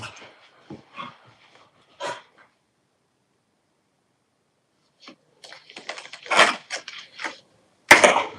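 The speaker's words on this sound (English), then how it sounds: "I love my puppy so much." A red Australian Shepherd puppy indoors gives scattered short whimpers and yips, close by, with a long quiet gap before a busier burst of yelping and barks.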